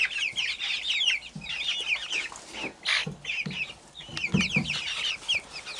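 Chicks in a brooder make a steady run of high chirps and soft clucks, with occasional low thumps and scuffles as the birds move about close by.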